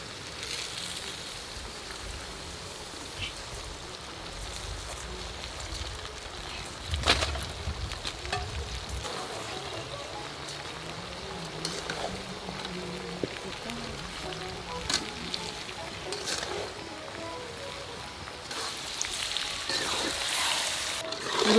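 Mango pieces and sugar cook in mustard oil in a kadai for mango pickle, giving a steady low sizzle and frying crackle with occasional stirring scrapes and clinks, fairly close and continuous.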